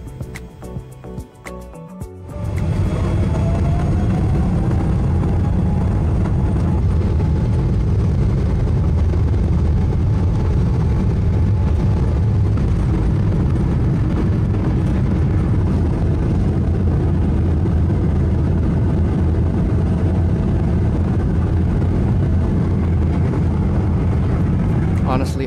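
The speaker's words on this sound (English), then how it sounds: "So now we're lining up for takeoff." United Airlines airliner at San Francisco airport lining up for takeoff, its jet engines building to a loud, steady cabin roar that holds for most of the stretch after a brief quieter start.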